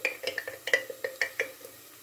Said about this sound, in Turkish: ben hemen şöyle kavrulan soğanımı salçalarımı ilave edeceğim